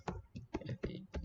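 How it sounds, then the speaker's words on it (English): Keys tapped on a computer keyboard while filling in a form, a few quick clustered bursts of clicks at close range, fairly quiet. "So let me just type in all the stuff here."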